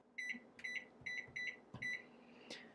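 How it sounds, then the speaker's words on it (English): A kitchen timer is started and gives five quick double beeps in a steady rhythm, close and clear, with soft handling knocks between them. "I'm actually going to start a timer so I can tell you exactly what to expect here."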